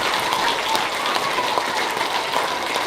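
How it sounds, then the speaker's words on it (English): School audience applauding veterans at a Veterans Day program, a broad, even roar of many hands clapping in a large room, steady for the whole span with no talk over it. "How about a round of applause for all the young men and women that we're honoring today?"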